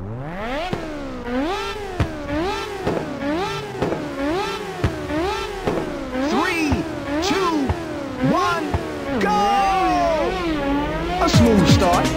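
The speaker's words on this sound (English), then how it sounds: "it's time to fire up those engines" Race car engines in Ridge Racer on PSP rev repeatedly at the start of a highway race, a rapid series of rising and falling whines, loud and close, ending with a higher surge as the cars pull away.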